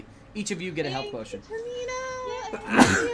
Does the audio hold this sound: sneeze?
yes